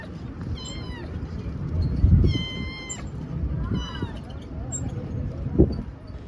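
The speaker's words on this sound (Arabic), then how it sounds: "بس بصراحه القطط بهدلتنا" Cats meow repeatedly at a seaside corniche, several close, whiny calls rising and falling over a low murmur of outdoor crowd and traffic noise.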